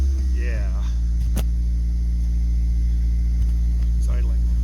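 A damaged car that was T-boned sits running after being started, its engine idling with a loud steady low hum and drone throughout, while a voice speaks briefly over it.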